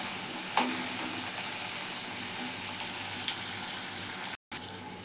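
Finely chopped tomatoes and onion are stir-fried in a pan for a spicy ridge gourd dish. A constant, even frying hiss carries a couple of faint utensil taps and breaks off briefly near the end.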